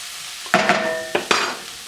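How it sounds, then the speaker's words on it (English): A few quick scrapes and clinks of a utensil mixing Worcestershire sauce through a sizzling pan for Swiss steak, short bursts over a faint frying hiss. "And go with our Worcestershire sauce. Same thing, just mix it up."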